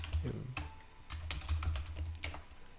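Keys clatter on a computer keyboard as a command is typed, in quick irregular taps at moderate distance over a low steady hum.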